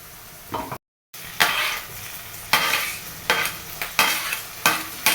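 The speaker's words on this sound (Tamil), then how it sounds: "இது வெங்காயம் பச்சை மிளகாய் வதக்கலாங்களா" Onion, green chili, garlic, ginger and pepper sautéing in a pan for a Madurai-style fish curry, a steady sizzle broken by several loud scraping stirs, close and clear with no talking.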